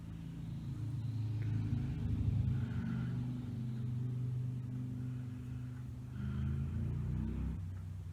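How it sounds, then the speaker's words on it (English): Steady low engine rumble of passing motorcycles, swelling slightly toward the end, with no voices. "You may hear the motorcycles driving by."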